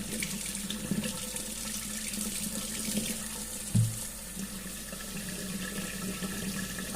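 Kitchen tap runs steadily into a sink while the water warms up for homemade laundry detergent, a constant close splashing flow with one brief knock partway through, no voices.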